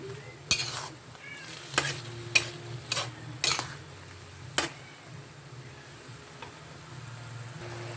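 Chicken liver adobo with vinegar, soy sauce and seasoning being stirred in a pan: a handful of sharp metallic spoon clinks over a low steady simmering hum, close-up and quiet, no voices.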